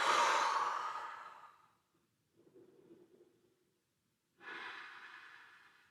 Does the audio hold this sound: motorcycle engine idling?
no